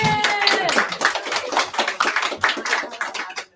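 A small group claps for Robin at an auction, a short burst of distinct close handclaps with voices talking over them, tapering off after a few seconds.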